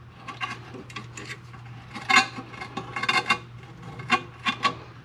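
A brake caliper piston tool turned by hand on a 2003 Toyota Sequoia gives a series of close, short metallic scraping and ratcheting rasps. The bursts come at an uneven rhythm, with quiet gaps between them and no talk.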